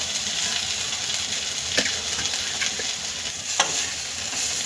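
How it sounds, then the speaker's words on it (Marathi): Papad chutney with coriander being stirred in a pan, a steady sizzle and scrape with occasional sharper clinks of the spoon against the pan, close and continuous. "आता आपण ह्यामध्ये थोडी कोथिंबीर टाकू"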